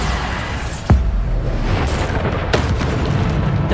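Bombarda blasting spell going off in the game Hogwarts Legacy, a sharp booming burst near the one-second mark over a steady rumbling bed of combat noise, with a fainter second impact later.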